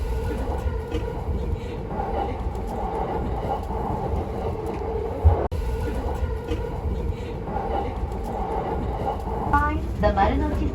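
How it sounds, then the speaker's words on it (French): Tokyo subway metro train rolling steadily with a continuous rumble and faint rhythmic clatter, rising squeals of wheels near the end, and low voices of passengers in the carriage. "On prend le métro pour aller dans le quartier de Sumida."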